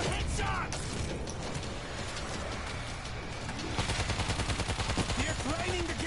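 Gunfire at zombies in the video game World War Z, with dense in-game noise that breaks into rapid, rhythmic automatic bursts in the second half.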